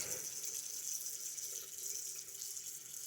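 Water runs steadily from a bathroom sink tap, a continuous close hiss and splash with no talk over it.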